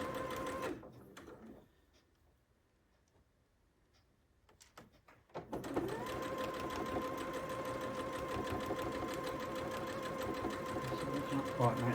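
Sewing machine stitching together small postage-stamp quilt patches. It starts with a short whir, falls quiet for a few seconds, then runs steadily and close up to the end. A voice talks over it.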